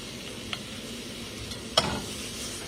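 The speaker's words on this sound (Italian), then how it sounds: "La pentola è pronta, mettiamo il nostro pesce." Fish pieces go into a hot pot, giving a soft sizzle with a couple of sharp clatters and splashes, close and without talk.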